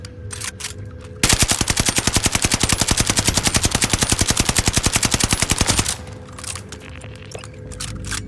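Video game gunfire as a rapid, evenly spaced automatic burst lasting several seconds, loud and close, with quieter game ambience before and after and no talk.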